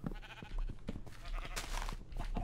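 Sheep bleat several times in a row in Minecraft, short nasal cries repeating close by over faint background noise.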